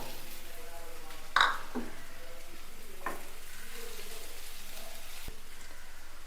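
Mashed boiled potato dropped into a pan of sautéed onions: one soft, brief plop and stir over a quiet, steady sizzle, with a few faint scrapes after.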